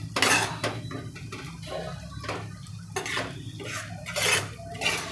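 A spoon scrapes and clanks around a pot of dhaba-style drumstick curry as it is mixed, giving repeated bursts of metallic scraping and knocking with brief pauses, close by and clear, with no voices.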